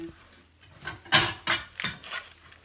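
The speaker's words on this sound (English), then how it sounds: "My little helper is now mixing things up while I get a container." A child stirs homemade granola bar ingredients in a bowl, with a few distinct knocks and scrapes of a utensil against the bowl, close and fairly loud.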